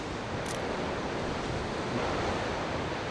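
Storm waves crash on a shore in a continuous, loud roar of broadband surf and wind noise, steady throughout with no distinct individual breaks and no voices.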